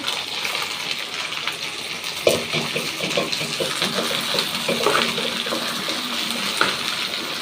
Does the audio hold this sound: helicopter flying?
no